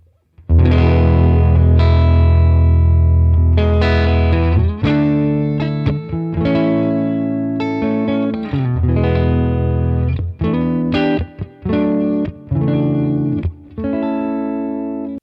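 Thick, warm distorted electric guitar on the neck pickup through an AmpliTube 5 amp simulator strums chords and short riffs, loud and continuous with a few brief gaps and ringing sustain.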